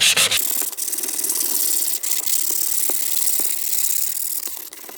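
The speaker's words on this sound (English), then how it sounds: "you're going to take your 280 grit sandpaper right here, wet your surface, go now in a different direction" Wet sanding a plastic car headlight lens by hand with 280 grit sandpaper, a steady close scratchy rubbing hiss running throughout with brief strokes and pauses, no voices.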